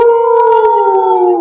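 A person imitating a wolf howl: one loud, sustained, steady howl with a slight downward glide, heard up close and alone without other voices.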